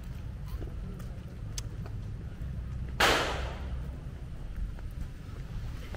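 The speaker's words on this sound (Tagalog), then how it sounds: "Naririnig ko na yung putok ng baril." A single sharp, distant gunshot from a shooting range cracks out against a low, steady background rumble, then fades quickly.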